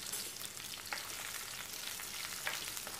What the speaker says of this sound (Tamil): தேங்காவை சேர்த்துட்டு மெதுவா வதக்கி விடுங்க